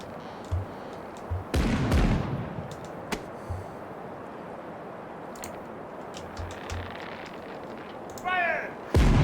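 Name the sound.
ship cannon broadside firing in video game Caribbean Legend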